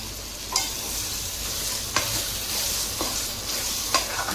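Chopped tomatoes and a ground spice paste fry in a pan for tomato rice, a steady moderate sizzle broken by four sharp scraping stirs of a spoon at even intervals.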